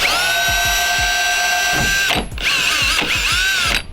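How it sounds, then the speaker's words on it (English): A power drill bores a small pilot hole through the hood of an mk1 1.8T Audi TT, a close, loud, high whine with rhythmic grinding pulses that briefly cuts out and restarts twice before stopping. "I'm just gonna take this small little pilot hole."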